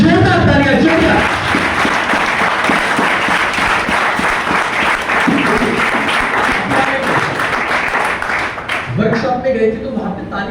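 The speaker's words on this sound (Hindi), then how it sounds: "जितने भी साथी जो नए हैं उन लोगों के लिए जोरदार तालियां, जोरदार।" Loud, sustained applause from a large crowd at a training session in Panipat, Haryana, dense and steady for several seconds before tapering off as voices return near the end.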